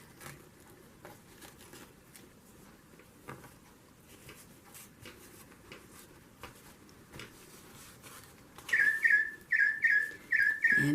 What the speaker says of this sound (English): And there's my bird clock.